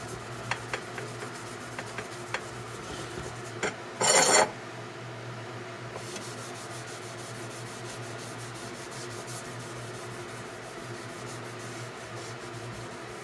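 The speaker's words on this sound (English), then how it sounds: "apply a little bit of that to an abrasive cloth and we're just going to wash those oxides off the knife" An abrasive cloth loaded with rubbing compound is rubbed over the blade of a freshly forged custom Bowie knife to strip oxides. The soft, continuous scrubbing stays close and fairly quiet, with one brief, harsher scrape partway through.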